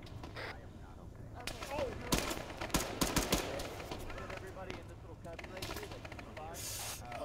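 Heavy gunfire with RPG impacts hitting a building in ARMA 3, bursts of sharp cracks and thuds clustered mid-clip over continuous battle noise, with voices talking throughout.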